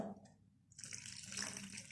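Water trickles and splashes in small additions into samosa dough being kneaded, starting with a soft pour and then a brighter, sustained close trickle, quiet and without any talking.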